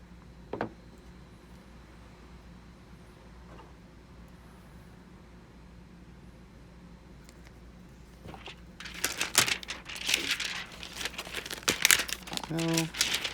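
Flex tape being handled during rainy-day bonsai work, quiet near-silence with a few faint taps, then a burst of loud crinkling and tearing toward the end, close by.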